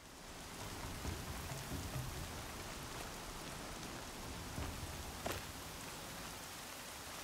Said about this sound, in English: These rain effects, they're just so good.